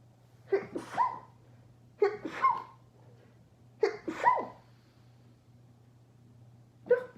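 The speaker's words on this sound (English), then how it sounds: "sorry guys, I gotta sneeze here" Three clear sneezes spaced a second or two apart, each with a sharp inhale and burst, then the start of a fourth, over a low steady hum.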